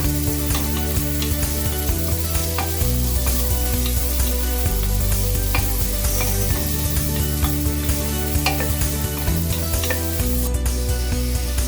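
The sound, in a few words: sautéing sliced onions in a pan for vegetable kurma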